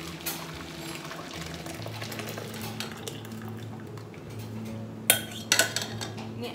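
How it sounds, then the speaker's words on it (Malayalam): Milk is strained into another pot with metal utensils during cappuccino making, giving clinks and scrapes of cookware over a low steady hum, with a few sharp metallic knocks near the end. "വേറൊരു പാത്രത്തിലേക്ക് നമുക്ക് പാലൊന്ന് അരിക്കാം."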